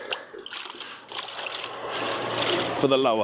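Water rinsing a car during a Carpro winter maintenance wash, a splashing trickling hiss that builds steadily, with someone talking over it near the end.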